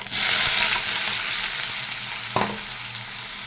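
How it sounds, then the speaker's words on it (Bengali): Dal being tempered with two dried red chilies, radhuni, chopped garlic and chopped onion in hot oil, a loud burst of sizzling at the start that settles into steady frying with one sharp clatter. "ডালটাকে ফোড়ন দিয়ে দিচ্ছি।"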